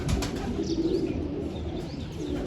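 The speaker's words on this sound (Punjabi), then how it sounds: "ਉਹ 8-9 ਫਿਰਦੇ ਉਧਰ ਕਬੂਤਰ" Pigeons circle near a home loft, with wing flaps and soft cooing and chirps over a continuous outdoor background hum, fairly close and alone without talk.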